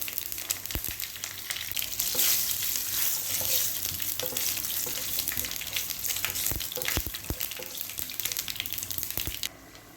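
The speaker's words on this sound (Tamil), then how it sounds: "தாளிப்புக்கு கடுகு உளுந்து சேர்த்துக்கலாம்." A tempering of mustard seeds, urad dal, four dried red chillies and a few curry leaves fries in hot oil: a loud, steady sizzle with scattered sharp pops and crackles, cutting off abruptly near the end.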